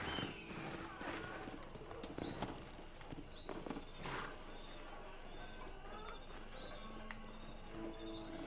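A horse walks in Red Dead Redemption, its hooves clip-clopping softly in a steady rhythm under chirping crickets and birds, moderately distant with ambient outdoor noise throughout.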